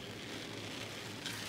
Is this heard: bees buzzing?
no